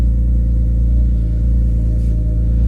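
A BMW E46 M3 sits idling with a steady, deep, loud engine rumble that holds a constant pitch with no revving.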